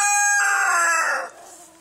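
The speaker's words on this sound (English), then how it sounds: "Oh, I forgot a chicken in here." A chicken in a backyard fowl coop gives a loud, close, drawn-out call lasting under two seconds, rising and trailing off, with no talking.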